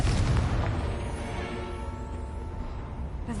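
A Confringo blasting spell in Hogwarts Legacy lands as a deep booming explosion that hits hard at the start and then rumbles and fades into a lingering roar.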